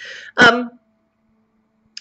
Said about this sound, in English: I've got the cough out of the way